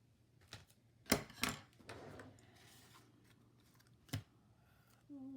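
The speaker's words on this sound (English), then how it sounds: "Just cut a couple pieces from my foam tape." Scissors snipping foam tape for a papercraft card, a few sharp close snips in quick succession over quiet room tone, with a brief clip near the end.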